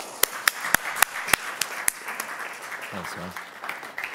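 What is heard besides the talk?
audience applause for speaker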